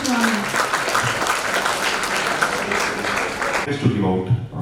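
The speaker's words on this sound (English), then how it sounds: "Can we have a big round of applause for Dr. Ananth?" An event audience at a VLSI conference claps steadily for a speaker, a dense sustained burst of applause with a voice speaking over it near the end.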